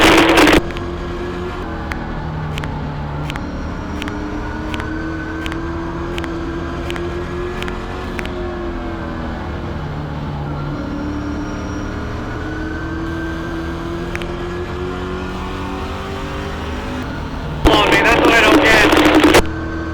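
Race car engine running on the track at Kern Raceway, a loud sustained drone with shifting pitch as it laps, under a driver's voice, with a burst of louder noise near the end.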